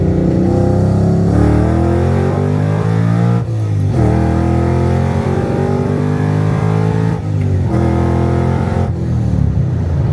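Supercharged Coyote swap car pulling hard in second gear, a loud, continuous rising engine roar with a brief dip around each shift-like break, close and dominant throughout.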